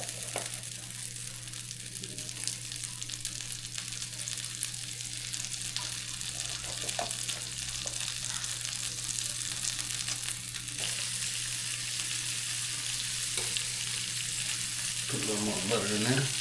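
Onions frying in garlic and herb seasoned butter on a grill, a steady close sizzle with occasional stirring scrapes and a louder hiss near the end.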